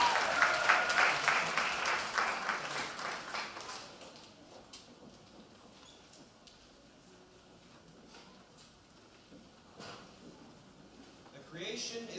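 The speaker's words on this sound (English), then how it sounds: "Let's have a round of applause for the choir" Audience at a Great Neck North High School symphony orchestra concert applauds the choir: a warm burst of clapping for the first few seconds that tapers into a quiet hall with a speaking voice and a brief swell near the end.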